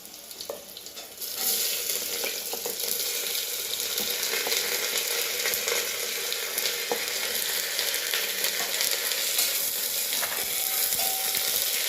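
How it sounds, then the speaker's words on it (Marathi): Chopped onions frying in oil in a pan for biryani, a steady, close hiss of sizzling that holds loud and even throughout, with faint scraping and no voices. "कांदा चांगला लालसर पसवून घ्यायचा"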